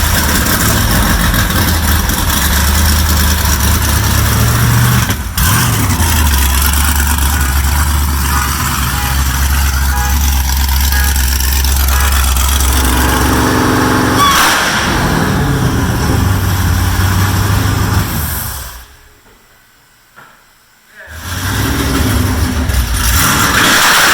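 A car engine runs steadily at idle, a low continuous rumble that holds for most of the stretch, briefly surges as if revved, then cuts out for a couple of seconds before starting up again.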